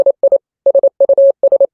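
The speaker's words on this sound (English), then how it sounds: "The name is in Morse code." Morse code tones spelling out a name during an online trivia game, a steady mid-pitched beep pattern of short dots and one longer dash in clean groups, loud and alone with no talk.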